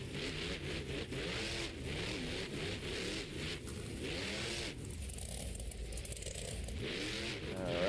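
A Monster Jam monster truck in an indoor arena tour event runs loud and continuously, its engine revving and surging as it climbs over a single log obstacle, with harmonic engine sweeps rising and falling close by.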